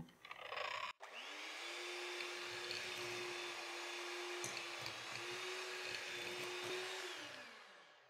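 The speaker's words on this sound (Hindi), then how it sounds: "बटर डाल के हम इसे बीट करेंगे" An electric hand beater whirs steadily as it creams butter in a mixing bowl, starting after a brief knock and running loud and continuous for about six seconds before winding down.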